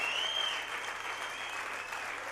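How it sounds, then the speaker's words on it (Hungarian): Sustained applause from a church congregation, a steady even wash of clapping with a faint ringing tone at the start. "És hát szóljon ez a taps az Úrnak"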